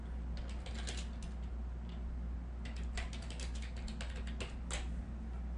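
Text typed on a computer keyboard: quiet, irregular clusters of key taps in bursts over a low steady hum, fairly close and soft, no talk.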